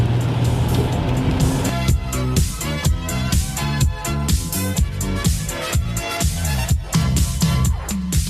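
A Ford Taurus cruises along a road on the way to a car event, its engine and road noise loud and close with a rhythmic pulsing drone.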